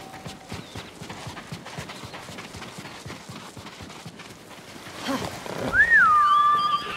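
Steady horse hooves clip-clop at a riding pace across the ground in Ghost of Tsushima, close and continuous, with a whistling tone rising near the end.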